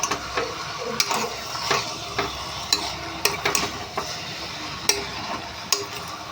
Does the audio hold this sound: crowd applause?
no